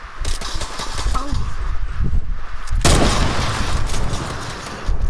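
Rapid gunfire bursts in the Fortnite video game, loud and continuous, with a sharp heavier blast partway through and sustained shooting after.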